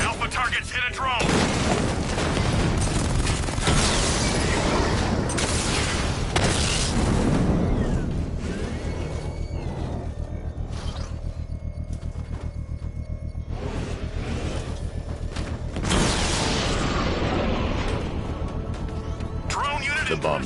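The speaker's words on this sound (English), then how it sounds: "I can use the power winch to trigger a controlled explosion." Bomb detonation from the Batman Arkham Knight game, a controlled explosion triggered against a drone, with booming blasts and rumbling debris bursts spread across the stretch amid layered game effects and talk.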